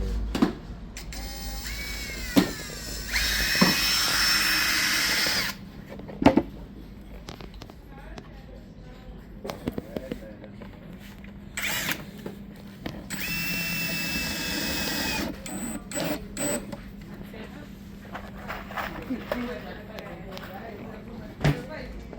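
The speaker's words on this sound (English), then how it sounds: "Okay, so then we're going to drill." A drill whirs in short bursts of a few seconds each, separated by clicks, clatter and tool handling, with people talking intermittently.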